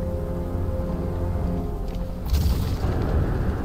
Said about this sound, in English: One well-placed shot with the Batmobile's 60mm cannon should take it out